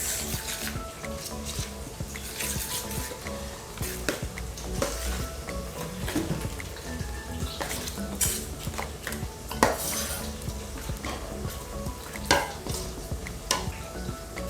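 Dhania, mint and curry leaves stirred in a pot, with busy metal spoon clinks and scrapes against the pot over a soft sizzle, continuous and close throughout.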